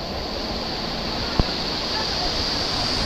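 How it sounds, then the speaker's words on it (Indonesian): Steady broadband rush of a waterfall pouring straight onto a beach into the sea on Jeju, South Korea, mixing with surf, constant and fairly loud, with one brief sharp click partway through. "ini air terjunnya itu mengalirnya langsung ya ke laut, ke pantai ini"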